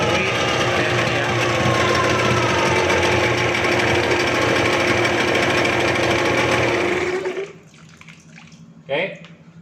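A Yamaha 2-stroke 15 outboard engine runs steadily with a loud, buzzing drone and cooling water splashing, then cuts off abruptly, leaving quiet with a faint brief sound afterward.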